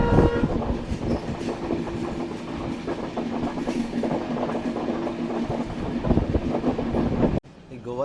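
Train 17040 from Goa to Secunderabad runs through forested ghat country near Dudhsagar with steady rolling clatter and sustained horn tones. The noise ends abruptly near the end.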